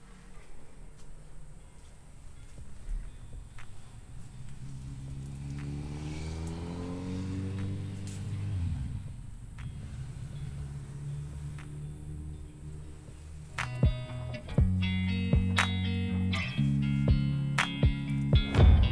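A winch motor whirs as it re-spools its line, a rising then steady mechanical drone that pitches up and down, followed by louder clicking and rattling near the end.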